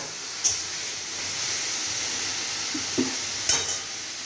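Onions sizzle steadily in a hot pan, a constant hiss broken by a few light clinks of a utensil against the pan.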